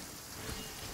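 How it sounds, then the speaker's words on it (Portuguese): Brief steady hiss of falling rain in the Genshin Impact video game, a soft, even patter near a waterfall with no voices over it. "Tá chovendo por conta da cachoeira"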